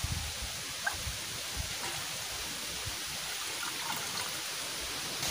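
Leafy greens are rinsed by hand in water, a steady close sloshing and splashing that runs continuously with small irregular bursts, nothing else audible.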